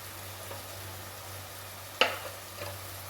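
Chicken with chili powder, garam masala and curry leaves sizzles quietly in a pan while being stirred, with one sharp utensil scrape or clink partway through.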